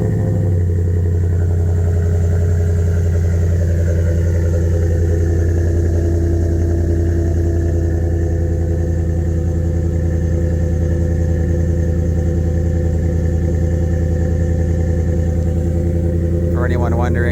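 A 2017 Ford F-150 with the 5.0 V8 and a Flowmaster muffler idles loudly and steadily after a fully cold start on a roughly 50-degree day, a deep continuous rumble close by that holds for the whole stretch.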